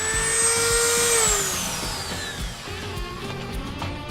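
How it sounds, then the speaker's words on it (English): A handheld rotary tool fitted with a high-speed cutter accessory whines loudly at close range, its pitch sliding downward as it bites into the material, then settling into a lower, steadier hum. "let me show you how to cut with these accessories."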